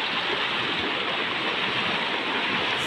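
Stream water rushes steadily near a waterfall along the Shimla highway, a dense, continuous close-up wash of flowing water with no pauses.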